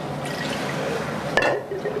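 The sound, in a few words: water poured over hands for ritual handwashing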